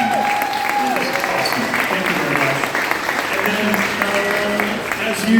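An audience claps at the grand opening of an agriculture innovation park, a sustained round of applause lasting several seconds, with scattered voices and whistles heard over it.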